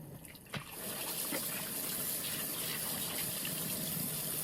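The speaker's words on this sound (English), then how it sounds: "I'm gonna wash my hands real good." Water runs from a tap while hands are washed, starting with a brief clunk and then a steady, close gushing stream that continues throughout.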